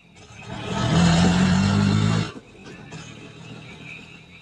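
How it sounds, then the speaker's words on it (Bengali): An auto rickshaw engine revs up loudly for about two seconds with a strong low throb, then cuts off abruptly, leaving a fainter idling rumble and light background noise. "রাস্তার মোড়ে দুটো লোককে নামাচ্ছিল একটা অটো।"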